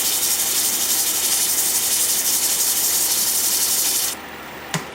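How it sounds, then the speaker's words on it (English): Steady, loud rasping hiss of sandpaper against a wooden bowl turning in reverse on a lathe at slow speed, continuous for about four seconds before stopping abruptly, followed by a brief tap. "So I'm just going to sand it like that."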